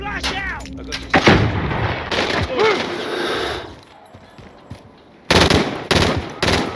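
Gunfire in Call of Duty: Warzone, loud bursts of shots and automatic fire in several clusters, with players talking over the fighting.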